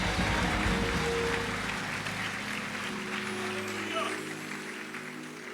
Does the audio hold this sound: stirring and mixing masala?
no